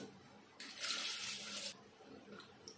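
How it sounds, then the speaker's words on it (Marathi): Water pours briefly into a pressure cooker for about a second, a soft gushing splash in a quiet room. "इथे आपण चांगलं पाणी टाकूया"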